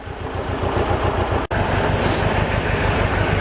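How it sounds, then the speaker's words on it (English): A Mercedes 190E with an M102 four-cylinder engine idles after a fuel pump change, giving a steady, close drone with a regular low pulsing beat, broken by a brief dropout partway through, and no one speaking. "And the engine's now running."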